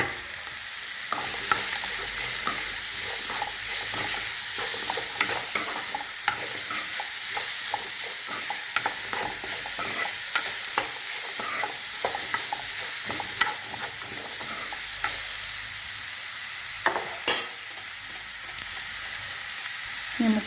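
Onions fry in a pan under constant sizzling, with frequent scraping and clattering strokes as they are stirred, close and continuous.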